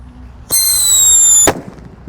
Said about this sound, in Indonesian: Seperti itu guys bunyinya.